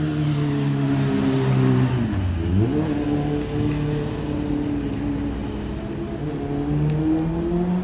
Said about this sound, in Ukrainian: Дивись он мотоцикл